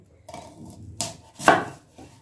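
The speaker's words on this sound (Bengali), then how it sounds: "কয়েকটা পেঁয়াজ নিয়ে নিচ্ছি, আগে কেটে নিই, তারপর বুঝবো কতটা লাগবে।" Onions are cut with a knife on a board for a dhaba-style chicken masala; a few separate, uneven chops and knocks sound close by, the loudest near the middle, with quiet gaps between.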